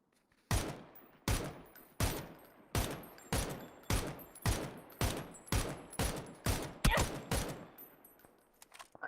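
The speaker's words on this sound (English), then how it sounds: "iFlying takes a couple of shots in return." Gunfire in PUBG during a pro league grand final match: about a dozen loud single shots at a steady, roughly even pace, each a sharp crack with a short ringing decay, no talk over them.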